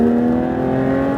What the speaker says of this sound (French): Allez vas-y accélère.